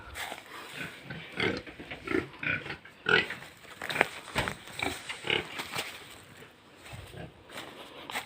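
Pigs in a pen grunt and squeal in irregular bursts, close and moderately loud, with several animals overlapping in short snorts and shrieks.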